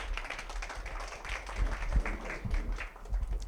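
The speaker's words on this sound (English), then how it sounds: "applause" Clapping at a cross-culture leadership workshop during a technology conference in Osaka: a mid-level patter of many hands from a small audience, fairly steady across the room with a few louder claps and faint murmuring beneath.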